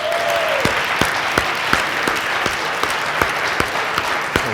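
A crowd applauds during a city's State of the City address, a continuous patter of many hands with a few sharper individual claps standing out, and a brief voice at the start.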